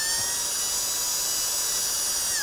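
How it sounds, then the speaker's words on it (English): A steady, high-pitched drill whine as it drills through a rubber seal, running continuously, close and loud, with its pitch dropping slightly near the end. "Now we have to drill through the rubber seal itself."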